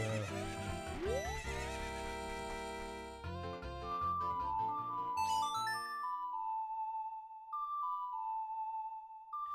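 A high, quavering neigh from Epona, the horse in a Zelda game, with game music and chiming tones that settle into sparse melodic notes.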